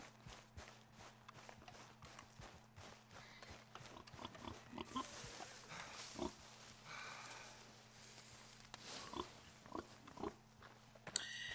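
Pigs in Red Dead Redemption 2 grunt and root around in free roam, with scattered oinks and snorts rising over a steady low hum, alongside hoof-like clip-clop and footstep sounds.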